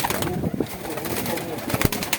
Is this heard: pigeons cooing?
yes